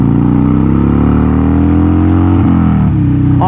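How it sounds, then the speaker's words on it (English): A motorcycle engine holds high revs against the rev limiter, a loud, close, steady drone with slight pitch wobbles and brief stutters near the end. "Off the rev limiter for Motobomb."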